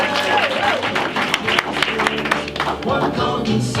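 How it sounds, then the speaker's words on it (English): Applause and crowd noise at a networking mixer, loud and steady for a few seconds over background music with voices mixed in. "Give them a round of applause,"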